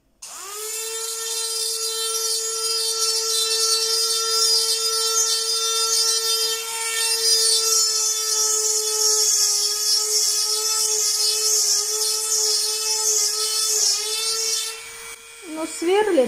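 An electric drill grinds steadily through stone, a sustained high whining tone with a buzzing edge that holds for about fifteen seconds, then drops off near the end with a short clatter; close and loud.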